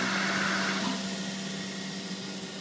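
The vacuum pump on a Limtech 5x10 Orion CNC router runs with a steady, loud droning hum and hiss that eases slightly in volume as it continues.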